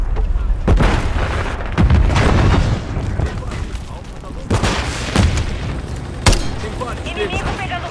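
A grenade blast and heavy gunfire fill a Call of Duty: Modern Warfare 3 beta match, with loud booms and sharp cracks recurring over several seconds while in-game voices call out under the din.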